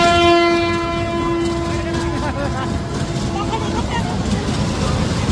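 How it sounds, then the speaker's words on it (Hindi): A train at a Makar Sankranti fair moving off, opening with a long steady horn blast and then a continuous rumbling clatter of cars rolling along, loud and close, with crowd noise underneath. "चलो भाई, स्टार्ट हो चुकी है ट्रेन।"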